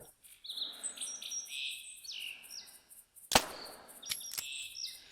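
Several birds chirping and tweeting in the outdoor game world of theHunter Classic, a run of repeated high calls joined by a sharp crack partway through and more chirps after.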